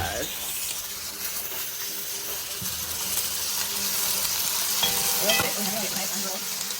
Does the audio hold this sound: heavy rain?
no